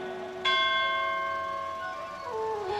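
A single bell rings out once, loud and close, and its bright metallic tone hangs on in a long, slowly fading hum. It sounds alone, with no talk under it, while the Hindu devotional Bhagwat Katha religious discourse goes on around it.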